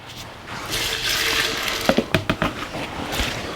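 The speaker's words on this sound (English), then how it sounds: "We'll add some water." Water pours into a tumbler barrel that holds old telephone cabinet hardware, including bells and hinges. A steady wash of rushing liquid runs for a few seconds, with a short run of sharp clinks and knocks partway through.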